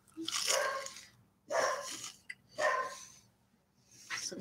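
A dog barks four times in separate, evenly spaced bursts at moderate loudness, with quiet gaps between them and no talking.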